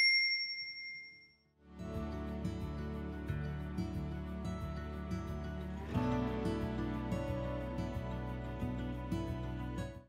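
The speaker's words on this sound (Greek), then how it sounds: "πατήστε το καμπανάκι" A single bright notification-bell ding rings out and fades over about a second, then upbeat music with a steady beat starts and plays on.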